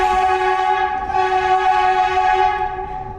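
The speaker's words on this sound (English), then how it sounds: "And that's what a subway's horn sounds like." A New York City subway train horn blares in a loud, sustained chord of steady tones that holds for the full few seconds, close and unbroken, with no voices present.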